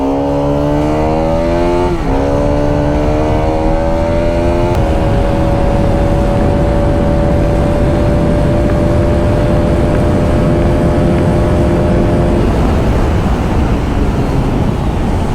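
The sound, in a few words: Bajaj Pulsar RS200 motorcycle accelerating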